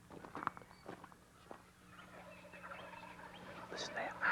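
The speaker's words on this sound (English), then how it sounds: "This old bird here I listened to a few days back, he's hot, man. He's gobbling." Wild turkey gobbling from a distant ridge in the woods near a creek, faint rattling calls rising toward the end over quiet outdoor ambience and a few nearby rustles.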